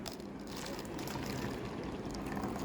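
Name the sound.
hot water poured into a beaker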